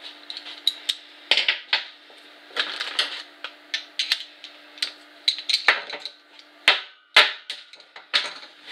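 Metal clanks and ratcheting clicks as a corroded, eaten-away bolt is worked loose from a barber chair, a brisk irregular series of sharp close taps and scrapes with no talking.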